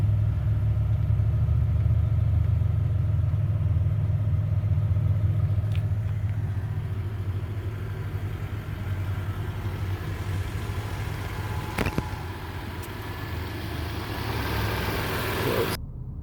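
A 2002 Toyota Tacoma TRD Limited's 3.4 V6 running, a steady low idle rumble heard from inside the truck, with a few faint clicks and knocks.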